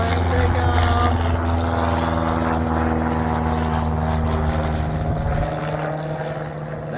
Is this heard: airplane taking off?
yes